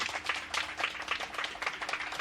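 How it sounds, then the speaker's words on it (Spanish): Audience applause for Dr. Raquel Gutiérrez at a lecture, a steady wash of clapping hands at moderate distance with no voices over it. "Yo pediría un aplauso grande para la doctora Raquel Gutiérrez."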